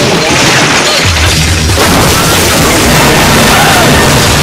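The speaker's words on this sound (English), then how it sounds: "Holy crap, that truck has crashed." A truck crashes in a video game, a loud, dense burst of smashing and crunching impact noise that fills the whole clip with continuous debris-like rumble and clatter, no voices over it.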